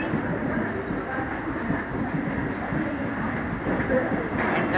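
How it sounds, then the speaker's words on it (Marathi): The Jalna–Mumbai Vande Bharat Express runs along steadily, heard from inside as a continuous low rumble with a rhythmic rolling clatter of wheels on track, close and constant throughout. "जालना मुंबई वंदे भारत एक्सप्रेस"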